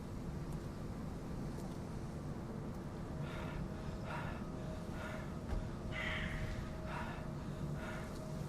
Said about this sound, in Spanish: se escuchaba una persona jadeando